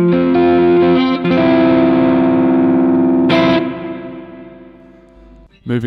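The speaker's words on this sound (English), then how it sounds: "So starting off with the reverb." Guitar played through a Vox Amplug AC30 headphone amp with its reverb effect at maximum intensity: sustained chords ring out with a washy decaying tail, a strummed accent partway through, then fading to a quiet end.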